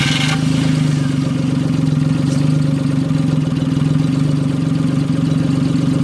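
A car engine runs steadily at idle, a low continuous drone with a faint rhythmic pulse, close and loud throughout with no talking.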